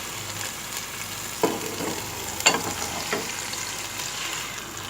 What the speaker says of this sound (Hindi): अब हम इसमें गोश्त डाल देंगे।